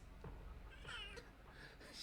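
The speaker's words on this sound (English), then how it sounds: "Kaka, cat say psst psst psst" A cat meows close by, with a drawn-out wavering call in the middle and another short meow at the end over faint background noise.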